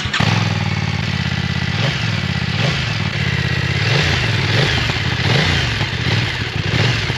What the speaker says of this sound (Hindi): आज मैं आपको थोड़े से एग्जॉस्ट साउंड सुनाता हूं